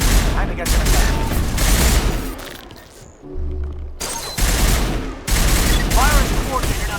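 Loud sustained gunfire and bursts of automatic fire in a Mass Effect battle at Virmire, with heavy volleys broken by a short quieter lull and a low boom before the shooting resumes.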